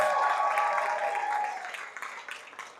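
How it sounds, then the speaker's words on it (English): Audience applause for children after a kids' fashion show in Boothbay Harbor, Maine, with sailcloth outfits decorated in seaweed and shells; a steady mid-distance clapping wash that thins and fades over the last second, leaving scattered claps. "How about another round of applause for those kiddos?"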